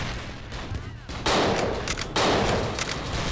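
Bursts of gunfire from the Dino D-Day video game, a loud sustained fusillade that swells sharply about a third of the way in and again near two seconds, continuing dense and near to the end.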